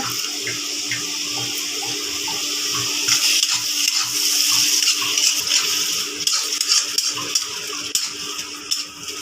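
Water pours into a pan of prawns cooking in masala, a steady close splashing rush with small bubbling and stirring clicks.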